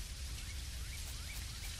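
Rain falls steadily across an island in the video game Dinkum as a constant, soft, dense hiss with faint patters, with no talking.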